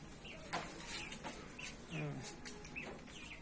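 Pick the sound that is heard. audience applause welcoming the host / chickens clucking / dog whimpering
chickens clucking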